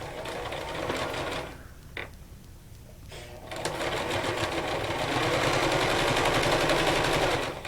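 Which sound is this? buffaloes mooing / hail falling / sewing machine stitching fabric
sewing machine stitching fabric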